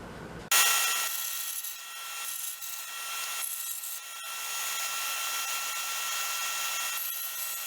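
A power saw cutting small wooden blocks to 14 mm lengths for HO scale model lumber loads, a steady high-pitched whine running several seconds after it starts up, close and fairly loud, no talk.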